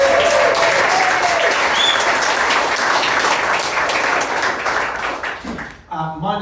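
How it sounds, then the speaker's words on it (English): A comedy night crowd applauds stand-up comedians in a full, sustained burst of clapping that fades near the end as a voice begins speaking. "So can we just give them a round of applause?"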